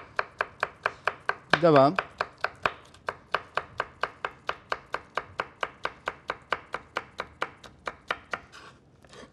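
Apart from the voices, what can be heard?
chopping ingredients for mengen soup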